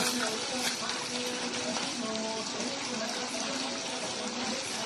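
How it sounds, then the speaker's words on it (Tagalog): Free-flowing water runs from a tap in a rural Philippine home, a continuous splashing rush heard close and fairly quiet throughout. "Ang tubig namin dito ay libre. Kasi flowing water."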